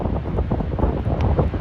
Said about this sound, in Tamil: செம்ம உயரத்தில் இருக்கும், செம்மையாக காற்றடிக்குது